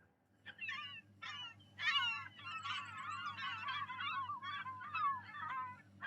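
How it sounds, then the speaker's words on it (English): Seagulls in the Farming Simulator video game call in a noisy flock, a continuous overlapping chorus of squawks and cries that rises and falls over a low background hum. "Oh, piss and hell, the seagulls are back."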